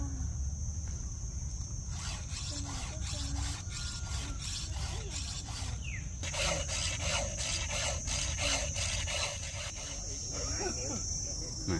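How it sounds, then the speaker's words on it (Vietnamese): A saw cuts through a tall melaleuca tree trunk outdoors in a rapid, regular back-and-forth rasp. It keeps going almost without a break, with a steady high whine and insect-like chirps in the background. "Rồi mình mời tất cả mọi người cùng theo dõi cái quá trình cưa cây này với mình nha."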